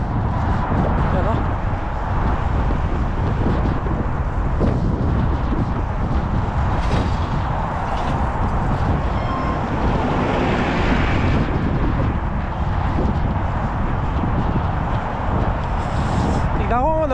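Strong, cold wind outdoors in Canada at around minus two degrees roars steadily and loudly throughout, buffeting the microphone with a constant low rumble, while a voice talks over it.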